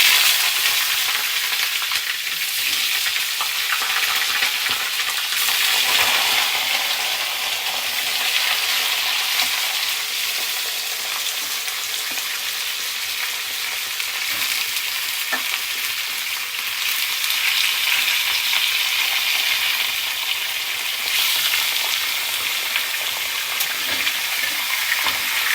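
Chicken leg pieces fry in a pan with a loud, continuous close sizzle, broken by occasional scraping and stirring sounds, with no voices.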